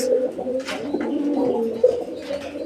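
A pair of pigeons coo in a loft, soft rolling calls overlapping nearby without pause, with a few faint higher chirps mixed in.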